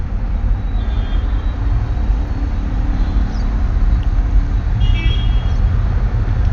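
Heavy road traffic climbing the Khandala ghat between Mumbai and Pune, a steady loud low rumble of engines with the occasional faint horn or squeal, no talking.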